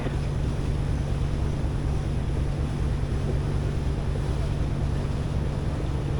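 Steady low rumble of a slow passenger boat's motor on the Mekong between Huay Xai and Pak Beng, with constant wind buffeting the microphone and a broad wash of water noise throughout.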